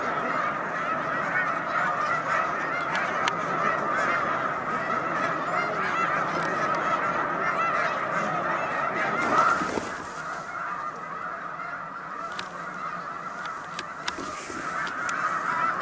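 A large flock of snow geese on Cayuga Lake keeps up a dense, continuous chorus of honking from a moderate distance, heard from inside a car, easing slightly quieter partway through. No one speaks.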